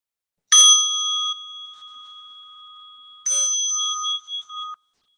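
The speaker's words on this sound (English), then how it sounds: "I'll call the bell." A meditation bell rings twice to open a mindfulness session, each bright strike ringing out with a long sustained tone in otherwise silent surroundings.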